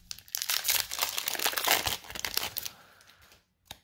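Foil trading card booster pack being torn open and crinkled by hand, a close, loud crackling and tearing that fades out, followed by one brief rustle.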